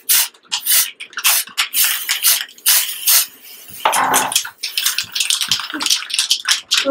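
Spray paint can shaken hard for stenciling a T-shirt design, a loud, close series of sharp rattling clacks in quick bursts, broken by a short hiss of spray, then more rattling.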